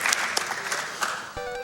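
Audience applause at a speedrun marathon after a boss fight in Chip 'N Dale: Rescue Rangers, a short burst of scattered clapping at moderate level that thins out after about a second.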